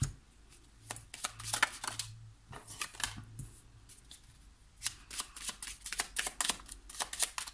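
Tarot cards are shuffled close up in quick riffling bursts, a papery flutter and slap that comes and goes with short pauses between rounds.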